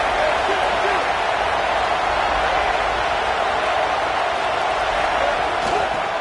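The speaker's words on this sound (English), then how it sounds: "This crowd ready to make its presence known." A football stadium crowd roars in a steady, dense wash of cheering that holds at the same level throughout, with a voice talking over it.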